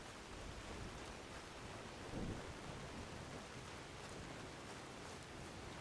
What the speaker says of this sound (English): Now it's raining again.